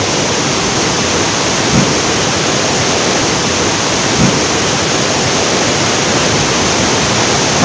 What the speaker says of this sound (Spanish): el río está muy crecido